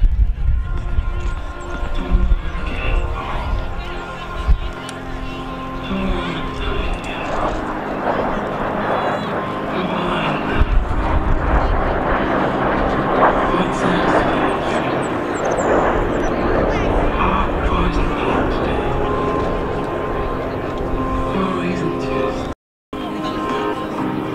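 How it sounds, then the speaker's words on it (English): Checkmate Jet Team jets making a formation pass at the Selfridge Air Show, a loud roaring engine rush swelling and fading, with people talking underneath. "As we get another nice formation pass from the Checkmate Jet Team"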